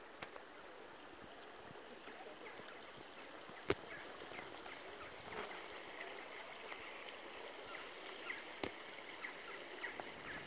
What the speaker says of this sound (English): Runs along the stream at the back here.